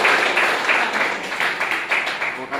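Steady applause from a classmate in an online class runs loud and close for a few seconds, with uneven hand claps blurring into a continuous patter.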